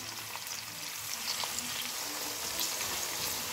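Chicken pieces for murgh karahi sauté over medium heat in a pan, giving a steady, even sizzle with faint crackles throughout.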